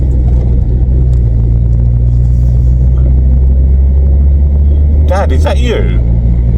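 A Volkswagen Vento car engine drones loud and steady while driving just after a gear change, with low road rumble throughout; a voice speaks briefly near the end.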